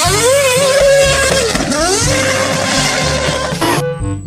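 A toy F1 racing car gives off a loud electronic engine-rev effect whose pitch sweeps up and down over a few seconds, then cuts off abruptly near the end.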